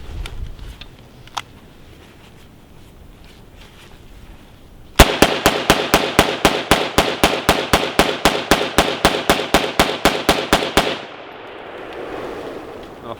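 RH10 rifle fired on a farm test range: a single shot, then a long rapid string of about thirty evenly spaced loud cracks, ending abruptly into quiet outdoor ambience.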